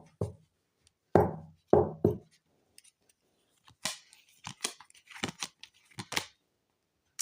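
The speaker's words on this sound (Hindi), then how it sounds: "Last shuffle." Tarot cards being shuffled for a Libra reading: three loud riffling bursts up front, then a run of quick, crisp card snaps and taps, close up with no talking.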